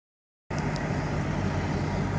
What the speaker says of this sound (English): Here's an 18-wheeler running his truck.